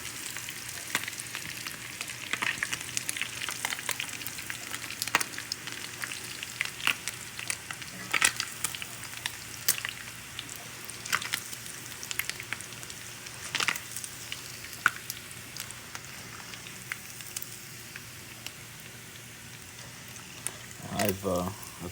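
Fish fry in a cast iron pan on a stovetop, a continuous crackling sizzle with frequent sharp pops and spatters, moderately close, with someone talking over it at times.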